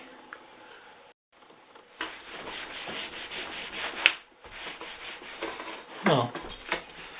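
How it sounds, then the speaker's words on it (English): Polish being rubbed into an old leather belt by hand, with close, scratchy rubbing strokes in uneven bursts and brief pauses. "So I'll rub that all in and then let it dry."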